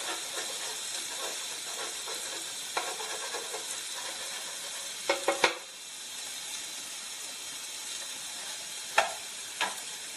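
Egg and small bacon bits fry on a Tefal Malaga plancha grill, giving a steady loud sizzle and hiss throughout, broken by a few sharp spits and pops.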